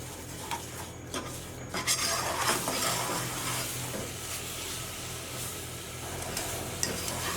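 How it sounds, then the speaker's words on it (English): Strawberry ice cream base in a pot on the stove over low to medium heat, stirred steadily with soft scraping and light clinks against the pot over a faint background sizzle, with no talking. "we're just going to move on to our stove and bring this up to a boil on a low to medium heat. And we of course want to stir this as well"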